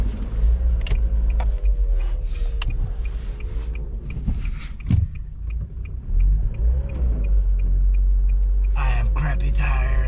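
A 2010 Nissan Versa drives on a snowy road, its engine rumbling low and steady inside the cabin with rises as it accelerates, along with road noise and occasional interior clicks.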